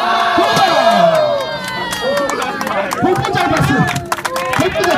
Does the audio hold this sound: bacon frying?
no